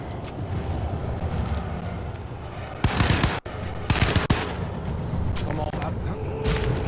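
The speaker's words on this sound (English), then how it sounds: "Get the Tommy gun out." A Tommy gun fires in the video game Alone in the Dark, sharp rapid bursts of automatic fire between stretches of loud ambient game noise and ongoing talk.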